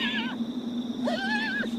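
A horse whinny plays as a sound effect in a ghost story podcast, two wavering high calls over a steady hum, fairly loud and alone.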